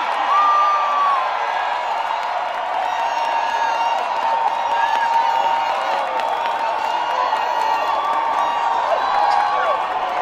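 A crowd cheers and applauds for Bishop Gregory Toussaint, with a steady wash of clapping and whoops that holds for about ten seconds.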